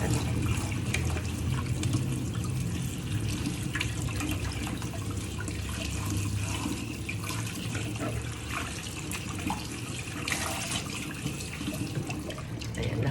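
Peeled saba bananas being washed under running water, a continuous close splashing flow from a tap with small drips and sloshes throughout, steady and without voices.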